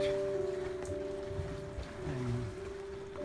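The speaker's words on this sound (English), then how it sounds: "You can see that it's really heavily raining, storms, and you might have heard the thunder." Heavy storm rain pours steadily at Telaga Harbor, drumming as a dense hiss on a moored sailing boat, with a faint steady hum beneath and no voices.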